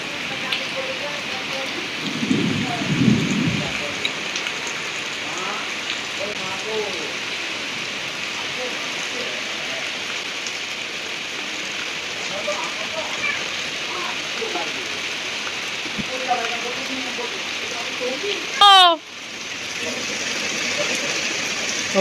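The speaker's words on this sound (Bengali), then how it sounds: "অবশেষে স্বস্তির বৃষ্টি" Heavy monsoon rain pours down in Basirhat as a continuous dense hiss. A brief low thunder rumble sounds early on, with a short sharp noise near the end.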